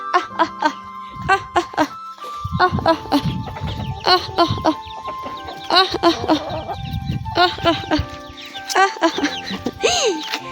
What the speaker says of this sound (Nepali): यो हो हाम्रो घरको कुखुराहरू